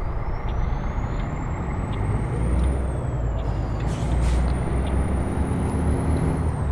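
Heavy truck in Euro Truck Simulator 2 braking with a steady low engine rumble, a rising whine and brief hissing air-brake releases, continuous and close, with no talk.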